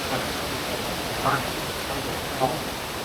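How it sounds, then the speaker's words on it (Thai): A small waterfall at Wang Bo falls pours in a steady, loud broadband rush that fills the whole clip, continuous and close, with no talk heard over it. "ตอนนี้เรามาถึงน้ำตก เอาพีโต้กันแล้วนะเสียงดังนิดนึงครับ"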